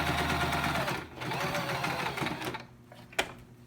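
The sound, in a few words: sewing machine stitching fabric face mask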